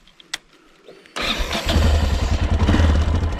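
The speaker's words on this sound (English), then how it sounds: "Yes, now bike works." Motorcycle engine after rewiring: a few faint clicks, then the engine catches abruptly and runs loud and close at a rough, throbbing idle with no talking.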